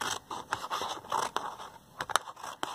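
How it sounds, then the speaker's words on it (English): Scissors cutting craft material in half while making a jellyfish craft: short, dry snipping and scraping sounds come in uneven bursts, close and fairly quiet, with no talking. "So I'm going to cut it in half."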